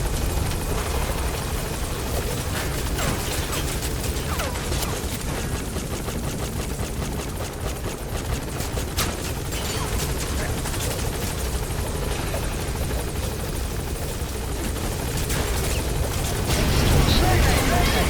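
Helicopter in the video game Metal Gear Solid V, a loud, continuous rotor roar and whir that swells near the end, with speech mixed in.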